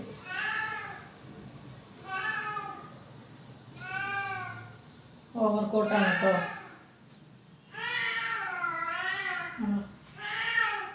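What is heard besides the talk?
cat meowing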